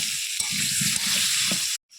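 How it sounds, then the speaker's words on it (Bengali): Close, continuous sizzling of potatoes frying in oil with light stirring, cutting off abruptly near the end. "এবারে লাল লাল করে ভেজে নেব।"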